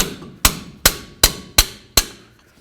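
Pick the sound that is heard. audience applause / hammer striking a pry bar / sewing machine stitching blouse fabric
hammer striking a pry bar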